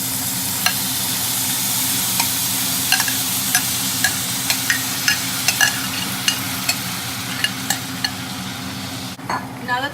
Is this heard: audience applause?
no